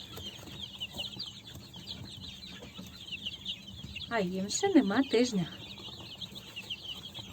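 Many small chicks chirp in a busy, high-pitched chorus. A person speaks briefly in the middle, and louder peeps rise over the voice.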